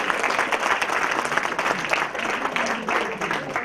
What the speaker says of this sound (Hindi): एक बार जोरदार तालियां हमारी संगीत की इस टीम के लिए।